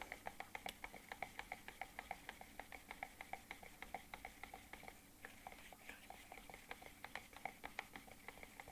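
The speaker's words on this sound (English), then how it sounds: "I'm scraping the sides of the cup, the bottom, stirring it up real well" A stick stirs and scrapes resin in a cup for an oak wood and resin turning blank, giving a quick steady run of small sharp taps and scrapes, faint and close, with no talk.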